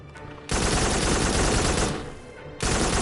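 Sustained automatic weapon fire in the VR shooter game Farpoint roars in two long, loud bursts separated by a short lull, with no voice over it.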